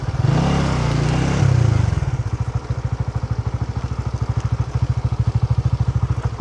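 A motorbike rides a rough road in Vietnam's Mekong Delta, a loud engine rev that drops into a fast, even putt-putt idle-like pulse, close and alone.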